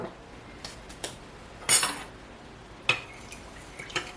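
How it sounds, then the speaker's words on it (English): Cucumber salad stirred in a bowl, with a handful of sharp utensil clinks and scrapes against the dish spaced irregularly over a quiet background, close and fairly soft. "I'm going to stir that up and taste it"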